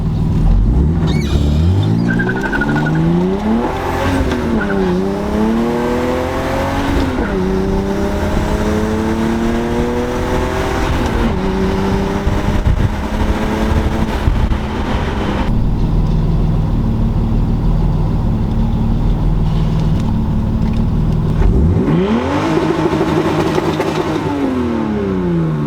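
A BMW E30 fitted with an eBay turbo accelerates hard through several gears, the engine note climbing loudly in repeated rising sweeps with brief dips at each shift, close and dominant throughout.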